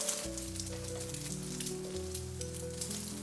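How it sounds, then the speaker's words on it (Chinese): Eggs poured into a wok of hot lard crackle into a continuous, even sizzle, with steady tonal music running underneath. "接下來把雞蛋直接倒在鍋中"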